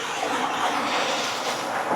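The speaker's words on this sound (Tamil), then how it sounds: "பாருங்க கீழே தண்ணி நல்லா வந்துக்கிட்டு இருக்கு" A stream runs below a large hillside temple on a waterfall trek, giving a steady, even rushing wash of water with no breaks and no voices.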